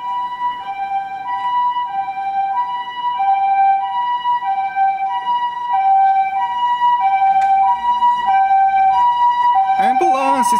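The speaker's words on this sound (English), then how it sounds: "Ambulance, it's emergency." A loud two-tone ambulance siren from an augmented-reality app wails back and forth steadily, up close, with a brief voice and a sweeping electronic tone near the end.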